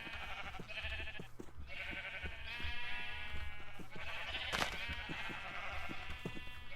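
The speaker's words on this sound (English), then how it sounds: "And then a sheep farm down here" Several Minecraft sheep bleat repeatedly in the game, overlapping one another over a constant low background hum, with no voices.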